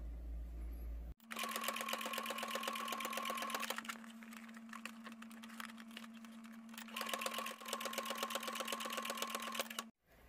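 A sewing machine stitching a bonnet hat runs in two long steady bursts of fast, even needle clatter with a low motor hum, pausing briefly in between, close and alone.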